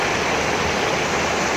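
Floodwater after heavy rain in Hyderabad rushes loudly and steadily, a dense close roar of moving water with no voices.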